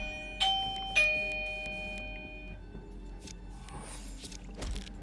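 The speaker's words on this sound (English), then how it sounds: "More doorbell ringage." Two bright chime-like doorbell tones from the Dawncaster card game ring out early, each decaying, followed by quieter shuffling and faint background noise.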